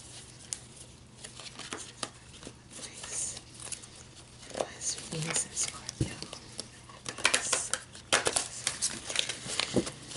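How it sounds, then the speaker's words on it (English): Oversized tarot cards get shuffled by hand in irregular bursts of soft riffles, slaps and papery rustles, close up, growing busier toward the end, with quiet talking throughout. "I'm definitely not used to shuffling cards that are so big."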